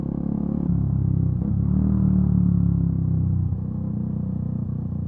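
A motorcycle engine echoes between enclosed village buildings as the bike rides through, giving a steady, close low rumble that swells slightly midway and then settles, with no voices.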